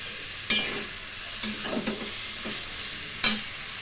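Coriander, cumin, chilli and tomato paste cooking in a pan for a rohu fish curry with winter vegetables, a low steady sizzle broken by a few sharp spoon scrapes and clinks against the pan, close and fairly quiet.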